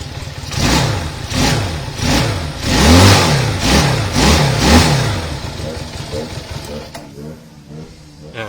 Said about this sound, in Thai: สตาร์ททีเดียวทั้งที่จอดอยู่เป็นอาทิตย์นะรถคันนี้นะ